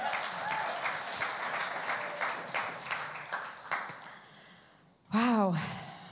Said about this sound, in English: give God a hand clap